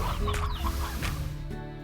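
Chickens cluck in the farming game Slime Rancher, a close, dense burst of overlapping clucks and squawks over a steady low game background.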